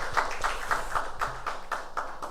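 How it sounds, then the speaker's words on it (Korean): Soft, rhythmic clapping of thanks from a small audience at a Korean university chapel service, roughly eight even claps, faint and slightly distant over a low hum. "우리 감사의 박수 할까요?"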